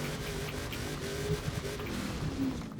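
Car engine in the racing game Forza Horizon 4, a steady, fairly loud engine drone with road noise, holding a low pitch and rising slightly in places, with no talking.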